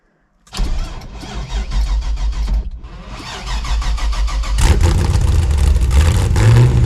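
A carbureted car engine cranks on a cold start with a weak-sounding fuel pump and catches, then settles into a rough idle that grows louder and revs up toward the end.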